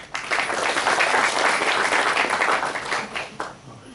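Loud, sustained applause from a college audience welcoming a guest at an annual gymkhana day prize ceremony, dense clapping that swells, then tapers toward the end.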